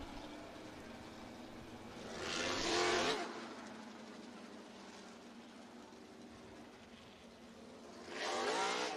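Race cars roll around Southern Raceway in Milton, Florida, before a heat race, their engines a faint, distant drone that swells twice as the field passes by, with steady background noise between the passes.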